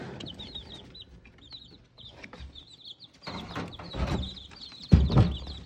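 Chickens cluck and chirp steadily nearby at a backyard coop, with a louder cluck burst toward the end.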